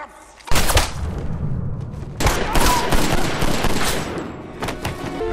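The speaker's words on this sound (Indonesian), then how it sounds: "Tembakan tadi menembus bahu John dan mengenai organ vital Thomas." Loud gunfire bursts out in sharp cracks and rapid volleys, echoing with a reverberant tail between shots.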